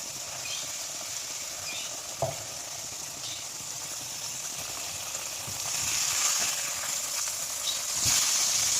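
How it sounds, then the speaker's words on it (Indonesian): Fish fries in hot oil in a pan, giving a soft, continuous sizzle and crackle close by. The frying grows a little louder near the end, with a few small pops and no talking. "kita akan goreng lagi hingga satu sisinya kecoklatan juga"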